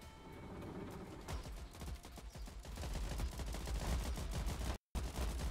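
Dense, continuous gunfire in the Ratten Reich video game, rapid overlapping shots forming a steady loud barrage that cuts out briefly near the end before resuming.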